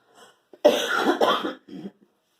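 A single harsh cough with a couple of hacking bursts, close and loud, followed by a short softer throat sound.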